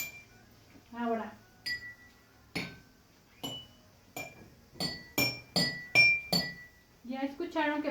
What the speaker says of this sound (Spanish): podemos formar melodías si tocamos los vasos de diferente manera y buscamos un ritmo